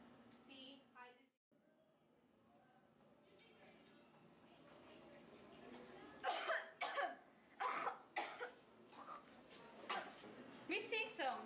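Repeated harsh coughing bursts, several in a row, loud and close, following softer background talk and rustling in a classroom quiz game.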